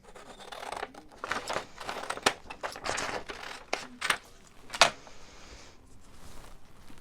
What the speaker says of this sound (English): So I'm just going to cut this about in half.